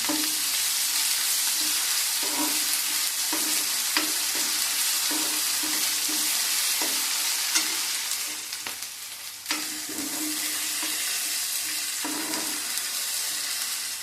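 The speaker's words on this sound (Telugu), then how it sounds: "అల్లం వెల్లుల్లి వేసి స్పూన్ వేసుకున్నాను పచ్చివాసం పోయే వరకు ఫ్రై చేసుకున్నాం" Ginger-garlic paste with turmeric fries in a pan, giving a steady, dense sizzle with repeated soft scrapes of a spoon stirring. A brief dip in the hiss comes partway through before it returns. No voices are heard.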